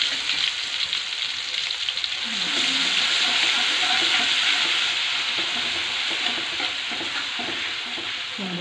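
Ground spice paste for a spicy sambal jengkol hits hot oil in a pan, giving a loud, close, steady sizzle and crackle with occasional stirring scrapes and no talking.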